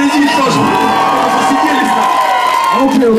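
A beatbox championship audience in Russia cheers, whoops and shouts as a loud, dense crowd roar that holds steady for a few seconds, with no clear talk over it.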